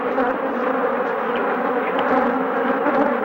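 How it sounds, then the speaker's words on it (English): A dense swarm of killer bees buzzes right around a beekeeper's veil, a loud, continuous, close droning hum with no voices. "They're absolutely all over me. One's inside, two are inside my veil."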